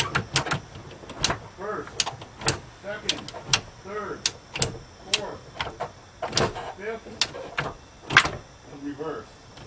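The gear lever of a diesel Dodge Caravan with a newly replaced shifter cable is worked through the gears, producing a series of sharp, close clunks and clicks at irregular intervals while someone talks between them.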